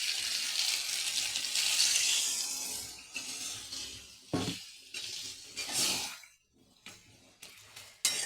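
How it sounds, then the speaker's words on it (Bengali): Water is poured into a pan of spiced soybean curry, producing a faint, uneven splashing pour that fades into soft sizzling and a few stirring scrapes, with no talk. "এবার আমি জল দিয়ে দেবো।"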